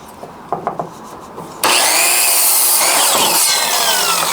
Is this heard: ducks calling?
no